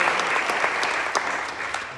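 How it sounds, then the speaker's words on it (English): An audience claps warmly for students at an arts awards ceremony, a dense, steady round of applause that holds strong across the moment. "I want to give them a big applause"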